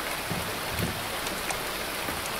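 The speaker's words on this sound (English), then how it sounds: "Oh no, the toilet flushing sound effect's still going." Toilet flush from a zombie video game, a steady rushing, splashing wash of water that runs on continuously, close and moderately loud, with no voices.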